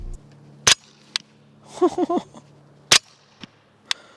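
Two sharp, muffled suppressed gunshots crack a couple of seconds apart, hitting a dirt berm, against a quiet background, with a brief murmur of voices and softer clicks between them.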